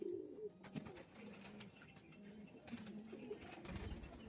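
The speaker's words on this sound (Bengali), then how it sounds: "পায়রা দেখুন শুধু" Pigeons cooing close by, soft low repeated coos layered over faint chirps and light rustling, quiet and continuous with no speech.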